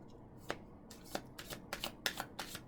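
A deck of angel cards shuffled by hand in a quiet room, a series of soft riffling bursts at uneven intervals, growing closer together toward the end, with no talking.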